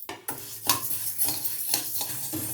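Urad dal dry roasting in a pan, the lentils scraped and tossed with a spatula in a repeated rhythmic rattle and swish, close and fairly loud, without speech.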